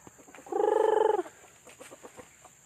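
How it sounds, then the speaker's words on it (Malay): A village chicken lets out a loud, close, drawn-out cluck lasting under a second, followed by softer scattered clucks and faint rustling around a backyard flock. "Ternak ayam kampung."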